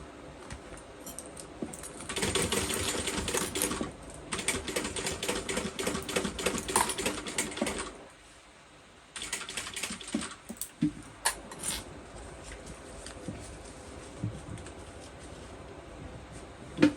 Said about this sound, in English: I'm just going to come in and do a couple more stitches right next to, or right where my connectors are